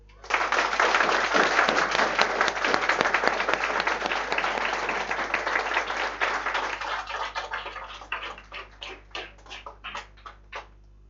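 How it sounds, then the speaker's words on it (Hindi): A seated audience at a coaching institute breaks into loud, dense applause that holds steady, then thins into scattered separate claps before fading out. "एक बार जोरदार ताली।"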